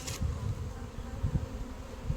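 Honeybees at a beehive on a farm buzz in a steady, low droning hum, several insects close by, with no voices.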